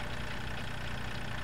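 A tractor engine in the Farming Simulator 2013 video game runs at a steady, dense idle, loud and continuous with no voices over it.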